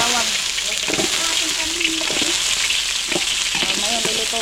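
Onion frying in a pan for pancit, a close, steady sizzle with intermittent stirring scrapes and brief voices talking over it.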